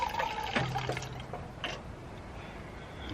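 Water trickling and dripping from the small tap of a stove-top water heater inside a hot tent in the woods, a short uneven pour with light splashes up close, fading to quiet.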